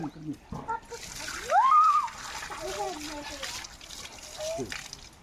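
Water splashes and sloshes as children wash their hands and feet during a rice threshing in Konkan, with kids' voices and shrieks mixed in over the splashing.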